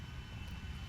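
A large airplane in GTA V passes with a steady roaring engine drone, fairly faint and distant, with no voices over it.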